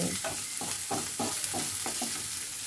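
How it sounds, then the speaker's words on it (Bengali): Onion and grated ginger sizzle loudly in a pan while being stirred, with rhythmic scraping strokes about twice a second over a continuous frying hiss. "এবারে আমি সব কিছু ভালো করে নাড়াচাড়া করে মিশিয়ে নেব।"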